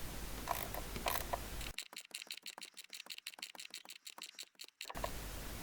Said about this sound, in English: only thing left to do is to tighten it with my 10mm wrench